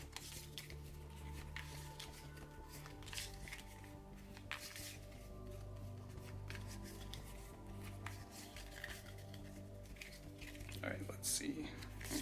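Board game character cards are shuffled with quick, close riffling and soft papery flicks in a quiet room.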